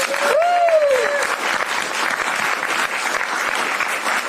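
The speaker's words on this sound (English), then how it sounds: "So please give her a round of applause." Steady, dense applause from a crowd at a political event in Western Wisconsin, loud and close, with a brief voice or whoop rising over it near the start.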